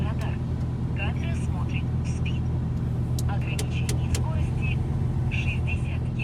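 A truck drives along a road on a long-haul route, its engine a steady low drone throughout with faint higher whines and clicks above, while someone talks over it.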